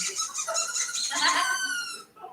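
A squeaky toy bear gives a long run of loud, close, rubbery squeaks, repeated quickly and then stretched into a rising, wavering squeal before stopping abruptly.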